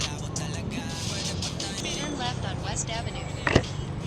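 Heavy road traffic on a congested street, a steady rumble of engines and cars passing nearby, with a sharp brief knock near the end.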